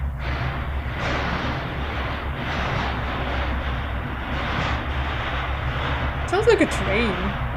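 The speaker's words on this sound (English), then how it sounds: "Sounds like a train." A steady, train-like low rumble fills a room inside a house, continuous and fairly loud throughout, with a brief louder swell near the end.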